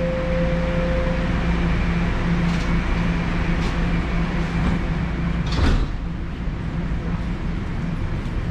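Subway train doors on a Toronto TTC train sliding shut at a station, a brief mechanical thud and slide rising over continuous loud train and platform rumble, with a steady hum throughout.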